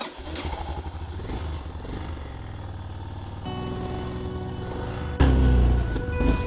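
A Yamaha XT 600 motorcycle riding on after a river crossing, its single-cylinder engine chugging steadily nearby and then revving up sharply near the end, with some clatter.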